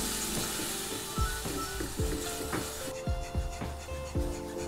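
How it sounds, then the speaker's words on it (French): Veal stock goes into a hot roux for a blanquette de veau: a soft hiss and bubbling sizzle, punctuated by a series of low, rhythmic stirring or scraping strokes, close and fairly quiet. "je vais maintenant ajouter le fond sur le roux"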